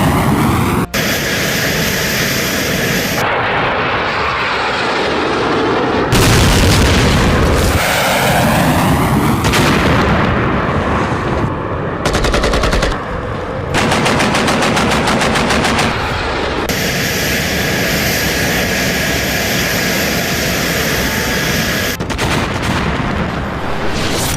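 Artillery and a bomber formation attack the town of Thakhek: rapid bursts of heavy gunfire, booming blasts and droning aircraft alternate in loud, shifting sections, with sudden cuts between them and no voices.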